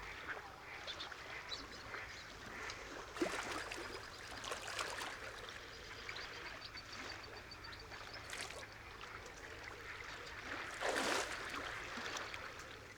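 Wetland birds on the Villafáfila salt lagoons in Castilla in autumn, scattered duck-like quacks and calls at mid distance over a steady breezy outdoor ambience, some calls louder and nearer than others.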